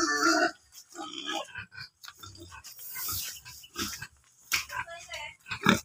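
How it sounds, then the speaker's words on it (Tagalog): A pig being carried off for a first-birthday celebration grunts and oinks in short bursts, close and loud, mixed with people talking over it. "Ayan yung baboy na para kay Dos."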